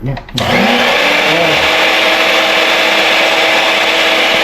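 An electric fan's steady, loud motor whir starts abruptly after a brief bump and then runs continuously, broadband and droning without change.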